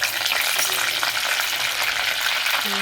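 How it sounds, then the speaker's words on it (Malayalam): Curry leaves fry in hot oil in a pan, giving a loud, steady crackling sizzle that runs unbroken and close throughout, with no talking over it. "എണ്ണയിൽ കിടന്ന് തിളച്ചുകൊണ്ടിരിക്കും."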